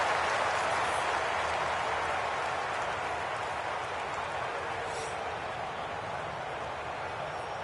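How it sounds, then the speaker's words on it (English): A big golf gallery around the 16th hole at TPC Scottsdale cheers and applauds a shot, a dense, steady roar of clapping and crowd noise that holds at full strength and only slightly fades over several seconds. "Gorgeous shot, and this big crowd absolutely loves it."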